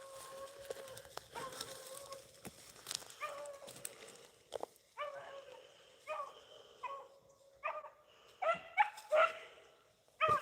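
A pack of beagle hounds bays and barks while chasing a rabbit outdoors, with repeated yips, whines and howling barks coming in irregular bursts, some nearer and louder toward the end, over a faint background.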